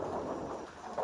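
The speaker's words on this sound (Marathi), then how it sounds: "आता पावसाला सुरुवात झालेली आहे" Monsoon rain sets in over a Konkan village with tiled-roof houses, a soft, continuous wash of rainfall with a low rumble of thunder underneath, brief and fairly faint.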